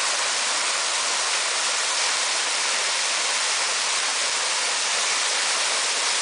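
The high waterfall of Busay Lut-od Falls on the Sapangdaku River pours in a dense, constant roar of falling water. It is loud and close and stays steady throughout, with no voices.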